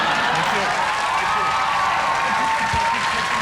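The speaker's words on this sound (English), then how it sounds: "They go out on the undeserved applause by mentioning champagne comedy." Dense, steady audience applause fills the whole stretch at a podcast comedy recording, a continuous wash of many hands clapping with no gaps.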